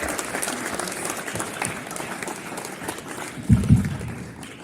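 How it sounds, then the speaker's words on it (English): Another sustained round of applause from an audience at a school talk, a thick crowd clapping, with a couple of dull low thumps near the end. "Again, another round of applause, please, for Advait."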